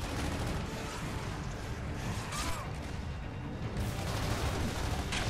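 Dense, continuous gunfire and explosions fill a battle in the video game Gears of War 3, loud, close and unbroken.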